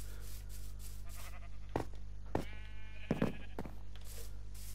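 Sheep in Minecraft bleat several times, short repeated game bleats over a steady low hum, with no talking.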